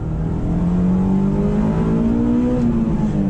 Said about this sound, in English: Hear that VTEC kick in?